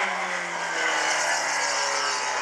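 A midget race car circles South Sound Speedway on a qualifying lap, its engine screaming in a loud, steady high-pitched drone throughout with a slight rise and fall as it rounds the track.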